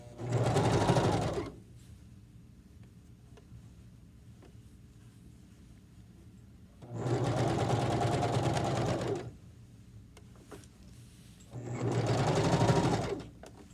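A sewing machine stitches a pillowcase in three loud bursts of whirring, with quiet gaps between them.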